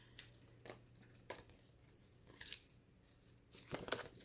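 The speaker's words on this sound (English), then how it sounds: "Scissors." Quiet, close snips and rustles of scissors cutting paper, a few separate cuts spaced out with soft handling noise between them.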